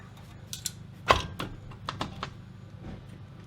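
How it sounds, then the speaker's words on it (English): A Solo-Werks coilover strut on a Mk4 pops into place on the knuckle with one sharp mechanical clunk, jacked up from the lower control arm, followed by a few faint metallic ticks and knocks. "that was the sound of our coilover popping perfectly into place"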